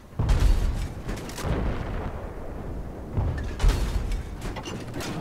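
Heavy gunfire and booming blasts from a Battlefield 4 match, bursts of shots and explosions coming in two loud waves with rumbling between them, close and with no talking.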